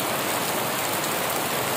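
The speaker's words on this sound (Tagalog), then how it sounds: "Yan, malakas ang ulan." Heavy morning rain pouring down in Antequera, Bohol, a dense, steady hiss of drops hitting surfaces, loud and unbroken throughout.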